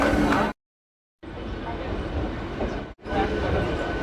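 An Arambagh local train pulling into Sheoraphuli station: a steady, loud rumble of the moving train, broken by a short stretch of silence, with a voice audible over it.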